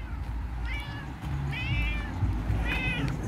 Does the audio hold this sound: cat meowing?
yes